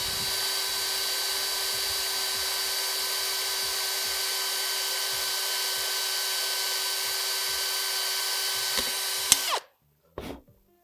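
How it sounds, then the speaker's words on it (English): A power drill runs steadily, boring into a thin aluminium can with a constant high whine for about nine seconds, then stops abruptly, followed by a brief clatter of handling. "be really light with the drill"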